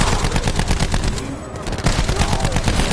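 Heavy automatic gunfire in a video game, a close, loud, steady chatter of rapid shots with overlapping bursts that barely let up.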